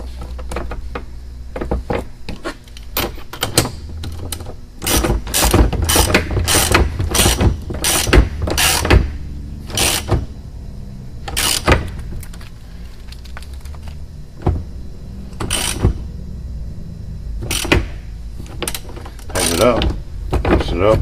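Crimping tool pressing a fitting onto an A/C hose, with a long run of sharp metallic clicks and ratchet-like clacks in irregular bursts, close and loud, with quieter mechanical rattling between them.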